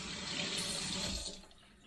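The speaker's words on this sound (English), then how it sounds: "We're just going to rinse it off in some cool water and just get the gist of it off like that." Cool tap water running over a slab of homemade smoked bacon as it is rinsed at a sink, a steady close splashing rush that quiets and thins toward the end, with no speech.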